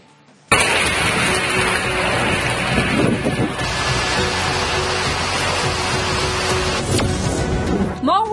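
An untimely hailstorm pounds down over mango-growing farmland in a dense, loud, continuous roar of rain and hail, close and steady after an abrupt start, with gusty swells running through it.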